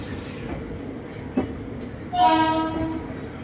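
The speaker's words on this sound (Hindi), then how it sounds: "तो फाइनली दोस्तों हमारी ट्रेन खुल चुकी है on time Delhi Sarai Rohilla railway station से।" The Salasar Express, coach train 22421, departing Delhi Sarai Rohilla station, with steady rolling rumble and a sudden loud, sustained multi-tone horn blast near the end.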